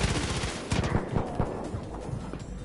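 Gunfire from a pistol in the Far Cry New Dawn video game: a rapid series of sharp, loud shots in quick succession, close up, with no talking.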